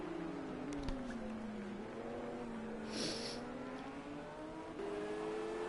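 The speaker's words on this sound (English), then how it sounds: "The Audi comes over the top of the crest and tries to see if he can get past the Porsche" Audi and Porsche GT3 race cars in a sim racing league round at Algarve, a steady engine drone shifting pitch as they crest a rise, moderately loud and continuous, with no talk.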